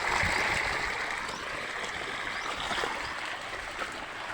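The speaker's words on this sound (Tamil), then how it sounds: "இப்போ தண்ணி பாய்ச்சிக்கிட்டு இருக்கேன்." Irrigation water flows steadily into a maize field, a continuous close rushing and trickling wash that holds level throughout with no voices.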